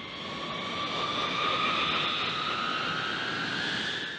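A B-52H bomber's engines give a steady, broad jet roar with a high whine running through it, constant and fairly loud for the whole stretch, swelling slightly in the middle, with no voices.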